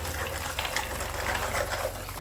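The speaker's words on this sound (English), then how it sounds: "we are going to be washing the shells first" Eggshells being washed with water in a bowl: a soft, continuous swishing and trickling of water with faint clinks, close and steady throughout.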